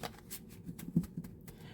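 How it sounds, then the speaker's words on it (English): A tarot card deck is shuffled by hand, giving a quiet, brief burst of soft riffling and flicking card sounds with a small slap near the middle and no talking. "And then one more shuffle."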